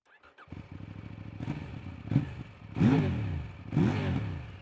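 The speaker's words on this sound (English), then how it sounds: "I cannot believe that is a standard exhaust system. It sounds like a race bike." A 2025 Kove 800X Rally adventure motorcycle idles with a lumpy, throbbing note through its standard exhaust, then revs hard twice in quick succession, each blip rising sharply before falling back.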